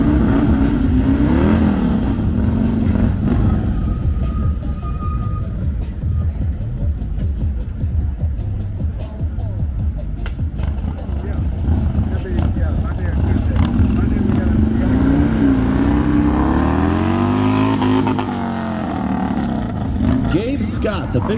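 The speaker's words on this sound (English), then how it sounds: "Gabe is a veteran of Drifter Cross coming out here riding for Sly Fox Performance, sliding the big bagger." A big bagger motorcycle slides around a Drifter Cross dirt course at Tennessee Smokies Stadium during Smoky Mountain Bike Week 2024. Its engine drones and swells in rising and falling revs beneath continuous loud announcer commentary.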